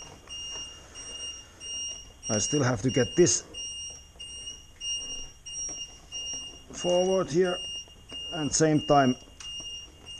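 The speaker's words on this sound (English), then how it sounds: "And that's the doorbell, don't mind about that." An electronic doorbell rings with steady high tones held through the whole stretch, sounding in the background while someone talks about removing the front fairing of a 2020 Suzuki DL1050 V-Strom.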